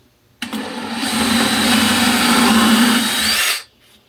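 A power drill spins up abruptly, whirs steadily for about three seconds while boring, then cuts off, during front post replacement work.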